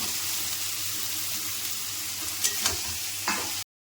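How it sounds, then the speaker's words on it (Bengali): Shrimp, pointed gourd and potato going into a pan of spice paste and poppy-seed paste already fried down, a sustained close sizzle broken by a few sharp clatters and stirring scrapes before it cuts off. "এবার চিংড়ি মাছগুলো দিয়ে দিচ্ছি, পটল আলুটা দিয়ে দিচ্ছি"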